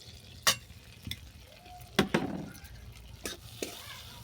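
Soybean flour fries in melted butter in a pan while being stirred, with a soft sizzle under scattered sharp scrapes and clinks of the utensil against the pan, close and with no talk.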